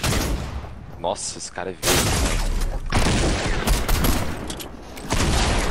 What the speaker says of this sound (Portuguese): Metralhadora, metralhadora.